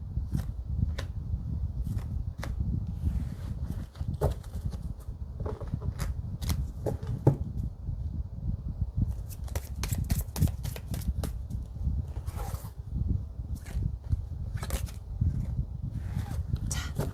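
Tarot cards being shuffled and drawn for a reading, a steady papery rustle broken by repeated crisp snaps and flicks of cards, close up and continuous with no talking.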